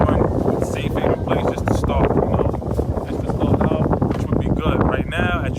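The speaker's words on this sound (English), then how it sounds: "it's a little windy" Wind gusts across an outdoor blacktop basketball court on a cold May day, rumbling against the microphone in a constant roar while a voice talks throughout.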